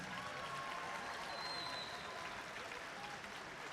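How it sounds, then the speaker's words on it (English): A large crowd applauds steadily at a robotics district competition event in Columbus, dense continuous clapping filling the hall from a distance without pause. "Let's have a round of applause for all the teams competing here in Columbus."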